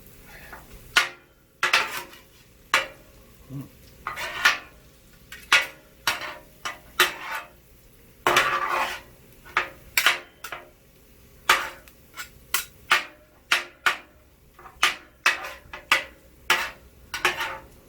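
Cheesesteak filling stirred in a pan as cheese melts, a steady run of close, sharp metal utensil clinks and scrapes against the pan, many quick strikes at an uneven rhythm with no talk.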